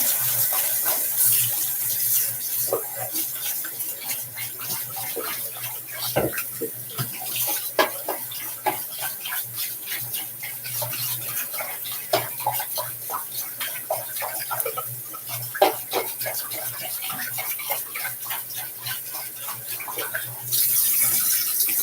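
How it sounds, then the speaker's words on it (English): Shaving brush rinsed under a running tap, a steady close stream of water with irregular splashes and squelches as the brush is worked through the flow. "Here's that Thader brush, all rinsed out."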